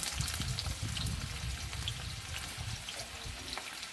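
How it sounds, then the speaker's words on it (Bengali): Onion pieces frying in hot oil in a pan, a steady dense sizzle with crackling throughout, fairly close and continuous, no talking. "এবারে তেলটা গরম হয়ে যাওয়াতে আমি পেঁয়াজটা প্রথমে দিয়ে দিয়েছি"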